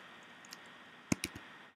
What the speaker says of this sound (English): typing in the new password